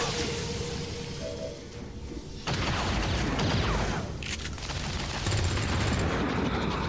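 Gunfire in XCOM 2, a modded War of the Chosen campaign on Legend Ironman, aimed at a sectoid: a loud, dense burst of shots and impacts rolling over several seconds amid battle noise.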